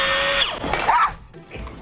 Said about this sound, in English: Now drill in the pipe clamp.